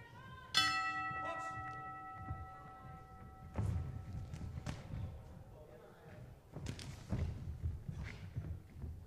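A boxing ring bell at a 2014 amateur bout in Regina is struck once and rings with a bright, lingering tone, then fades under crowd murmur and dull thumps from the ring.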